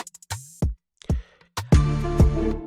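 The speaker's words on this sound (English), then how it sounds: "the specific drum loop that I use is called Arsenal drum loop that sounds like this" An Afrobeats drum loop called Arsenal, from the Made in Lagos sample pack, plays a few punchy, sparse hits with deep booming kicks and crisp clicks, ending in a fuller sustained tail.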